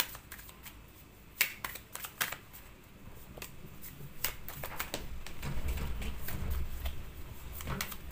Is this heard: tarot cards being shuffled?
yes